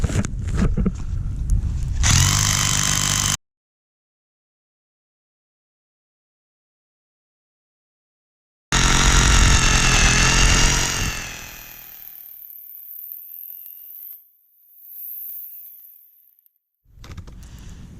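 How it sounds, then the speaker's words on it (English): A hammer drill fitted with a masonry bit grinds and rattles loudly into frozen ground in close bursts. The drilling breaks off into silence, then resumes before trailing into quieter scraping and handling. "what will work a lot better is a hammer drill with a masonry bit on it"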